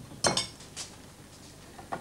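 A pan is set back on the cooking plate with a couple of sharp metallic clinks, followed by fainter dish and cutlery taps in a quiet kitchen.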